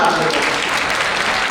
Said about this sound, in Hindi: तालियां आप लोगों को